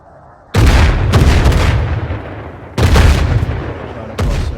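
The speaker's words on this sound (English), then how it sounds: "Oh, the guys are firing light mortars over here." Light mortar fire in ARMA 3 lands as three heavy, booming reports, each with a long rumbling decay, spaced roughly a couple of seconds apart. The blasts are loud and close, and no one talks.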